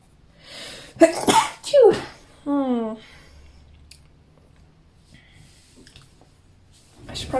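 One loud, sharp sneeze bursts out close to the microphone, followed by a short exhale or sniff, then quiet room tone.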